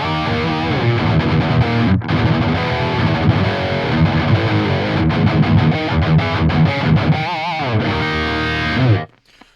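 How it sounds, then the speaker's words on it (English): High-gain distorted electric guitar played through the JST Toneforge Jeff Loomis amp simulator at default settings: loud, dense heavy riffing with sustained chugs and a brief bend near the end before cutting off abruptly. "We're going to take a look at the Toneforge Jeff Loomis from GUI Structure Tones, and this is what it sounds like straight out of the box"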